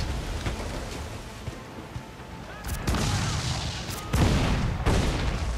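Ship cannons fire during a naval battle in Assassin's Creed 4 Black Flag, heavy booming blasts arriving in a few bursts over a constant rushing, rain-like background roar.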